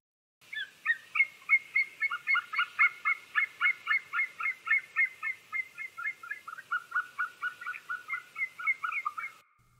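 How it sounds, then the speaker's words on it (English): A herring gull gives a long, steady series of about twenty loud, rhythmic yelping calls, clear and close against a quiet background. "It's a herring gull."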